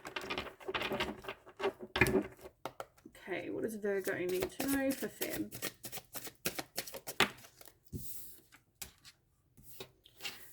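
Tarot cards being shuffled, a run of quick papery riffles and taps, heard close under a person speaking.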